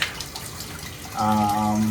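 Water running from a Moen 1222 single-knob hot/cold shower valve, a steady hiss and rush that starts partway through after a quieter stretch and continues evenly to the end, with a brief voice earlier.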